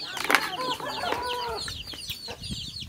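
Village chickens cluck and a rooster calls in a busy overlapping chorus of short chirps and clucks at moderate distance, livelier at first and thinning toward the end.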